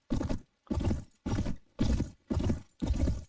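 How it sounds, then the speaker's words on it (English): Horses in the game Prophecy of Pendor clop along in six evenly spaced, loud bursts of hoofbeats, with neighing mixed in, all close by and with no talk over them. "And we've got all the nice horses over there as well."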